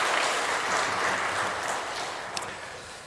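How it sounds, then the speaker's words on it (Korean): A church congregation at a Sunday service applauds to welcome three new members, a continuous wash of many hands clapping that slowly fades, with one small knock near the end. "이 세 분 환영의 박수 부탁합니다."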